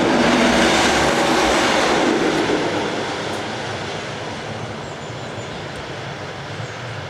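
An ex-DR Class 228 diesel locomotive passes heading towards Bottrop station, a loud broad rumble and rolling rail noise that slowly fades as it moves away.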